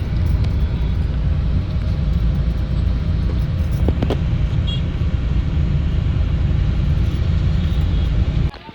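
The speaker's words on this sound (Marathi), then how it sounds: "गाईज खूप ट्रॅफिक लागली आहे." Continuous low rumble of heavy, jammed road traffic heard from inside a vehicle, steady engine and road noise with a brief clunk near the middle.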